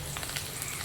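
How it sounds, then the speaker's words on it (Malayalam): Curry leaves crackle in hot oil in a pan, a brief, fairly quiet and even sizzle with no talking. "ഇതിലോട്ട് ഫസ്റ്റ് നമുക്ക് കരിയാപ്പല മൂപ്പിച്ചെടുക്കാം."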